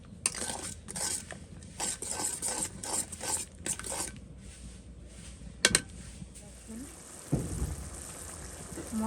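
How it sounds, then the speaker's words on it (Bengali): Spice masala sautés in a pan under repeated spatula strokes that scrape and clatter rhythmically, with a soft sizzle throughout. A sharp clink comes near the middle, then the stirring fades to a quieter simmer. "এটাকে ভালো করে একটু কষিয়ে নেব যতক্ষণ মশলা থেকে তেলটা না ছাড়তেছে"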